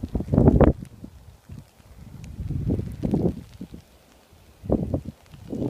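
Strong blizzard wind drives drifting snow along a street, heard as irregular low gusts that rumble and buffet the microphone, loud bursts separated by quieter lulls.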